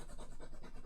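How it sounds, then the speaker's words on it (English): A pen scribbles rapidly across paper in a continuous scratchy rasp, close and steady for under a second, while working through algebra problems. "I'm going to scribble all over the paper."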